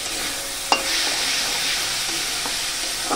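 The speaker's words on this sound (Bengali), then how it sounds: "ভালোভাবে একটু কষিয়ে নেব" Coriander-cumin powder and spices stir-fried in oil for a boal fish curry: a steady close sizzle with a sharp spatula scrape near the start and lighter stirring knocks throughout.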